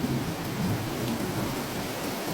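Heavy rain pours down steadily in a dense, continuous hiss, with low thunder rumbling underneath throughout.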